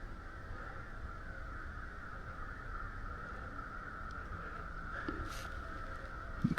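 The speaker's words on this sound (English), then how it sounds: "Crows are going crazy." Crows caw in the distance over a steady background hiss outdoors on public land during a late-season hunt, with a few calls standing out near the end.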